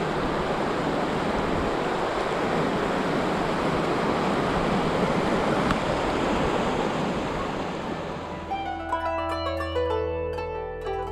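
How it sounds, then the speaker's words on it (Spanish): The Horcones river rushes beneath a small footbridge in a rocky mountain park, a steady broadband roar of flowing water close by that gives way near the end to a brief, more tonal passage. "acá está el famoso puentecito donde corre el río Horcones"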